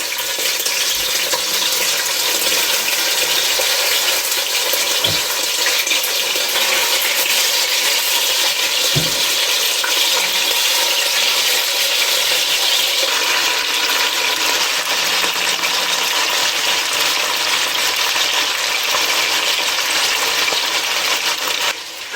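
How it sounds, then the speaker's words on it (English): Pork browning in hot shortening gives a loud, dense, unbroken frying sizzle heard close up for a long stretch, with a few faint clinks and no voices. "Now we're ready to put our pork in the shortening and brown that right on up."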